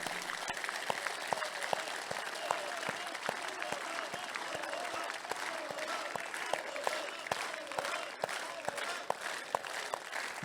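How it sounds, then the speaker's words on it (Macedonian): Sustained audience applause at a VMRO-DPMNE political rally, steady dense clapping from a large crowd throughout with no voices over it. "Овој аплауз е за тие луѓе."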